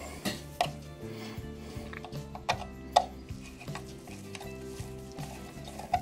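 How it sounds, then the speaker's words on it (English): A screwdriver turning a screw on a Black Forest eight-day Regula 3 cuckoo clock during servicing, with a repeating series of close metallic clicks and ratcheting ticks and a few sharper taps over a low mechanical hum. "Screwdriver into the screw once again. Turn it round."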